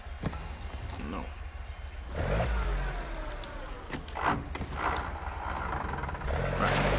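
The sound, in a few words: car engine driving in video game Mafia: The Old Country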